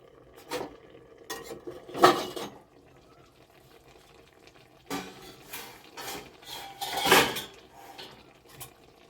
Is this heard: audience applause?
no